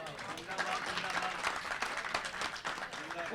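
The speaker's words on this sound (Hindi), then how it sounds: "तालियां कम आई इस शेर पे।" A concert crowd at a ghazal performance at Lok Kala Manch, Lodhi Colony, New Delhi, gives a short burst of clapping. A voice talks over the applause throughout.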